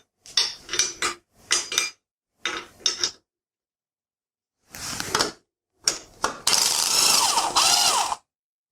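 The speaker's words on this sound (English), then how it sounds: "Now we're going to have to hold that nut, of course, and then just grab my spanner." Spanner working a nut on bicycle head and wheel bearings: several short bursts of ratcheting, clicking metal in quick groups, pausing, then a denser, louder stretch of grinding clicks near the end, with no talking.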